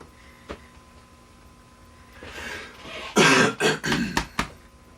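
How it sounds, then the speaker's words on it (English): A few sharp coughs close to the microphone, bursting in a quick irregular cluster after a quieter stretch of faint room noise, with a brief throat-clearing sound just before them. "Got a cough"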